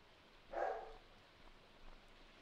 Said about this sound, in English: Oh, he barking.